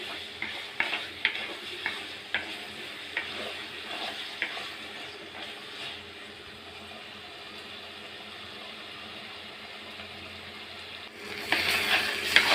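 Eggplant pieces sizzle in an oily pan as they are stirred with chili and turmeric powder. A spoon scrapes and taps the pan several times at first, then a soft steady frying hiss continues, with louder stirring near the end.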